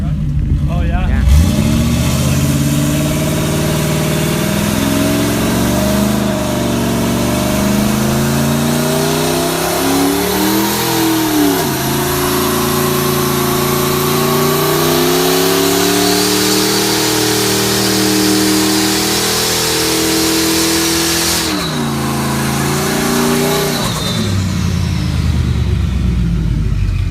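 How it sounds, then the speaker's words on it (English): A turbocharged Ford Crown Victoria does a burnout, its engine revving loud and steady with rising and falling pitch swells and a roaring drone close by, while people talk over it. "Still does burnouts. Look at that."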